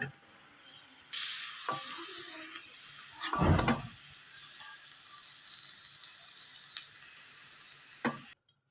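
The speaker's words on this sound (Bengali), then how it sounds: "গাজর ভাজতে কিন্তু একদম সময় লাগে না, খুব অল্প সময়ে ভাজা হয়ে যায়।" Carrots fry in hot oil for fried rice with a steady, close sizzle, broken by a louder clatter of stirring midway and a few faint scrapes.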